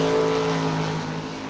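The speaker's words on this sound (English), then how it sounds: "Dragster from St. Charles is Mitchell Vincent." Super Pro dragster at a bracket race on a drag strip, a loud sustained engine roar with a steady tone that fades slightly as it pulls away.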